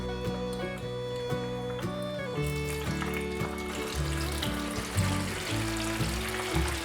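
Rolled vegan eel pieces deep-fry in a pot of hot oil, giving a steady, dense sizzle and crackle that continues throughout with a faint tonal background underneath.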